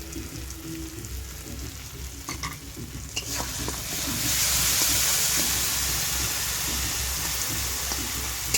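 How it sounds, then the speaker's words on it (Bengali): Masala with salt and a splash of water fried and stirred in a pan: a close, steady sizzle that swells into a louder hissing roar halfway through, with spatula scrapes and stirring throughout and no speech. "এবার ভালো করে মশলাটা কষে নেব।"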